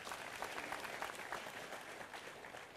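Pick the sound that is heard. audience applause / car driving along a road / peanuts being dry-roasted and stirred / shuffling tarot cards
audience applause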